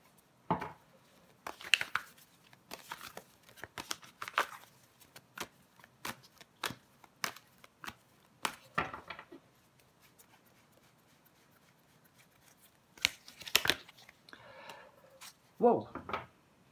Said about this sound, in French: On va recouvrir des cartes.